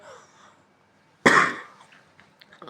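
A single sharp, loud cough from someone with a cold breaks an otherwise quiet stretch, followed by faint breathing and small sounds.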